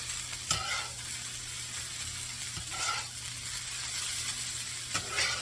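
Scattered hash browns frying on a long flat griddle, a steady sizzle running throughout with a few sharp scraping taps as a flat spatula flips them, close and moderately loud, no talking.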